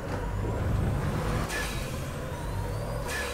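Heavy race truck with a 12-litre engine in Automobilista Formula Truck, its diesel rumbling under a rising turbo whistle, with two sudden broadband hisses like air brake bursts cutting in, loud and continuous without speech.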